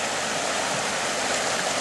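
Hammond Creek in the Gates of the Arctic National Park, Alaska, flows in a steady, loud, unbroken rush of water close by, with no voices.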